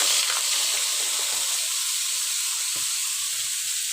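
Chili spices hitting a hot pan while cooking red amaranth greens with rohu fish give a steady, close sizzle and hiss, with faint clinks now and then.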